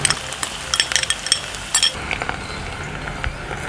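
Shallots and garlic sizzling in a pan for Thai Pad Mee Korat noodles, a steady close fry with a spoon clinking and scraping as they are stirred.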